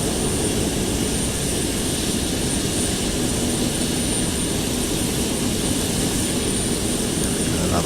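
Boeing 767 jet engines on approach in Flight Simulator X, heard as a continuous, even cockpit roar that holds steady from start to finish with no talk over it.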